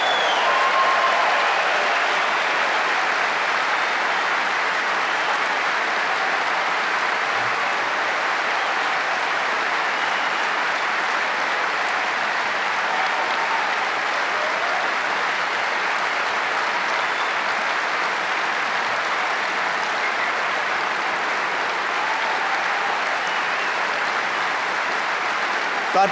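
Sustained audience applause filling a large hall, a long even wash of many hands clapping at steady loudness from start to finish, with no voices standing out.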